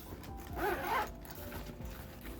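The zipper on a Supreme backpack opens in one quick, close rasping pull lasting about half a second, with soft handling rustle around it.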